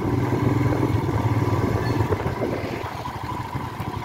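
A motorcycle engine hums steadily while riding on the road from Mugling toward Pokhara, a close, rumbling drone with slight throttle variation and no talk.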